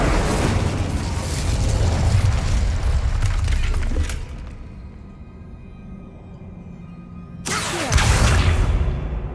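Incendio fire spell in Hogwarts Legacy erupting as a loud, dense roar of flame and booms that drops away to quiet, then bursts back in with another forceful blast near the end.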